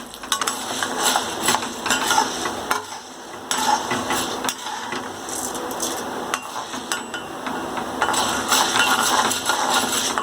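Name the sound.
frying chana dal and urad dal in a pan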